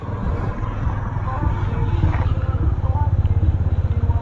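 Suzuki V-Strom 250SX motorcycle on its stock exhaust idles with a low, pulsing throb that grows steadier and more rhythmic toward the end, heard up close with some faint background talk early on.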